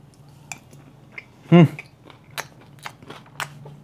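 One loud close bite into fried tofu served as a pulutan bar snack, a single crunchy burst followed by faint soft chewing and small mouth clicks, with a quiet background hum.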